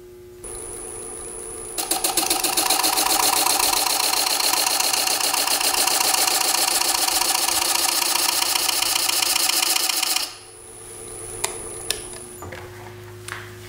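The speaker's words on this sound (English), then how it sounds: "Now I'm turning the lathe about 500 RPM, not real fast." A wood lathe turning a decorative display piece starts up and spins at about 500 RPM. It gives a loud, steady, rapidly pulsing mechanical whir for about eight seconds, then winds down, leaving a faint hum and a few light ticks.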